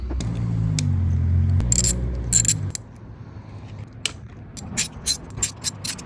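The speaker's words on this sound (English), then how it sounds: "we're gonna take out these 4 10mm bolts" Ratchet wrench clicking while four 10mm bolts are backed out of a Suzuki DRZ400S headlight assembly: a steady low mechanical whir at first, then a series of sharp, close, intermittent clicks and ticks.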